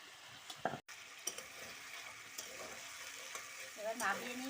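Food fries in a pan, giving a soft, uneven sizzle with scattered stirring clicks, and a brief voice near the end.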